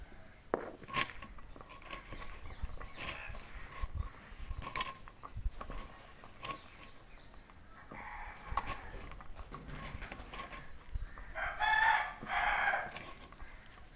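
A rooster crows in the background of a kitchen where onion pakoda batter is being mixed, with clattering of bowls and utensils; the crow rises clearly near the end over the busy handling noise.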